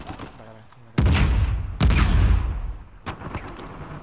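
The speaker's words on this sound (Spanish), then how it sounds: "hay mucho disparo aquí en medio" Bursts of rapid gunfire from Uncharted 4 online team deathmatch, several sharp volleys in quick succession, loud and close, with quieter shots trailing off.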